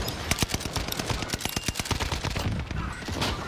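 Rapid automatic gunfire from a Call of Duty Warzone match, dense bursts of sharp shots cracking one after another for several seconds, loud and close, with no talk over it.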